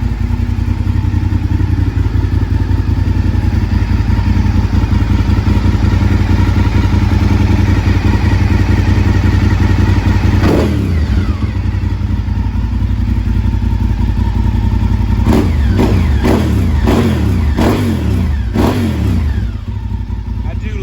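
A Honda RC51 sport motorcycle engine, running with a new battery, idles steadily and loud up close, with a few sharp revs near the end.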